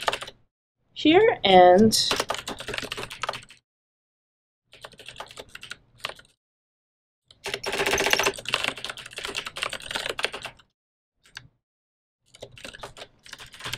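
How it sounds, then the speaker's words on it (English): Typing HTML on a computer keyboard: bursts of quick, light key clicks in irregular runs with silent gaps, close by, with a few brief spoken words near the start. "I'll just type in some HTML"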